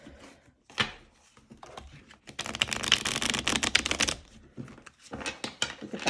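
Plastic tarot cards being riffle shuffled up close, several quick bursts of fluttering, crisp clicking, with one longer, dense riffle in the middle.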